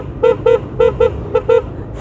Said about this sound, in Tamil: இப்போ ரைட் பண்ணும்போது ஹார்னை யூஸ் பண்ணி பார்த்தா சவுண்டு வேறு லெவலில் இருக்குது